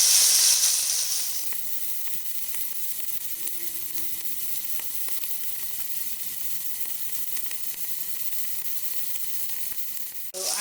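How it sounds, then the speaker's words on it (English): Prawns for a biryani fry in a pan with a steady, even sizzle and hiss that holds at moderate volume throughout, with a louder burst of spatter at the start and no talking. "So I'm frying it this way just to make it nice and brown like this."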